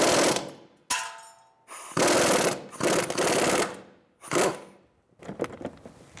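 Air impact tool loosening front brake caliper bolts on a 2007-2012 Nissan Altima: several loud, separate bursts of rattling hammering, each about a second long with short gaps between them, close and with no talk.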